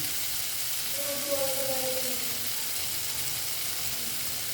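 Pointed gourd pieces added to potatoes already frying in a pan give a steady, even sizzle that continues throughout, with a faint brief tonal squeak in the middle.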